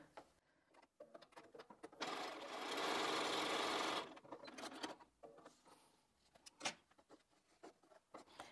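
Sewing machine stitching neutral fabric scraps into a scrap pineapple quilt block, a steady two-second run of fast whirring close by, framed by quieter handling clicks and rustles with no talk.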